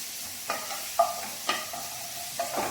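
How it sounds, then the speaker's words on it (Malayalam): Crushed onion frying in a pan for a Kerala white chickpea curry: a soft, low sizzle under repeated scraping stir strokes, roughly every half second, close and fairly quiet. "നമ്മൾ ക്രഷ് ചെയ്ത് വെച്ച സവാള ഇതിലേക്ക് കൊടുക്കുക"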